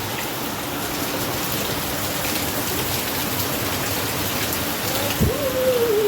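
Steady heavy rain pouring down during a red alert, a dense continuous patter with a faint voice briefly rising near the end.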